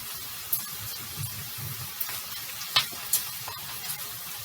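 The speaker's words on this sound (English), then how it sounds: "I'm going to let the onions and peppers cook down." Onions and peppers cook down in a pan for vegetarian taco bowls, giving a faint, steady low sizzle with scattered small pops and crackles throughout.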